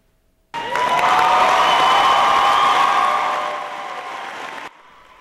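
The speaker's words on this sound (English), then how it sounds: "Lots of cheering out there as the Boylan football team presented its state championship trophy this past week to the school." Students at Boylan erupt in loud applause and cheering as the football team presents its state championship trophy, a dense crowd roar that starts abruptly, holds, then fades before cutting off.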